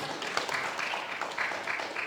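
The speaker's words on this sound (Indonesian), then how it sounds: "Kita tepuk tangan dulu untuk BNJ" Audience applause at an academic promotion session, a short, fairly faint spell of scattered clapping in a hall with some background murmur.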